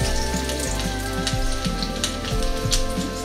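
Prawns shallow frying in very hot oil give off a steady, dense sizzle with crackling pops throughout, close and continuous.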